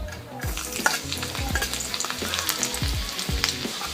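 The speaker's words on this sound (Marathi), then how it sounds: "त्यानंतर यामध्ये जिरं घालायचं तेल तापल्यावर लसूण घालायचं" Cumin seeds and garlic sizzle loudly in hot oil in a kadhai, a dense, continuous frying crackle with scraping stirs running through it, close and without talk.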